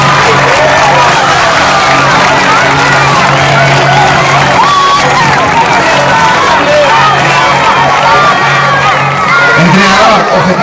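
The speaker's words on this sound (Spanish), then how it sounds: "quiero que Samara se merece un aplauso por parte de todos" An audience applauds and cheers for Samara, a returning player, at a club's 2022-23 season presentation, a loud, continuous roar of clapping and shouting voices with crowd chatter throughout.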